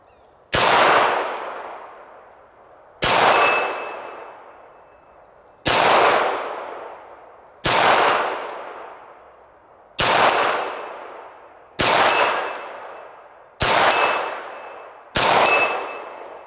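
A Canik SFx Rival pistol fires at a shooting range: eight loud, sharp single shots spaced about two seconds apart, each ringing out and decaying before the next.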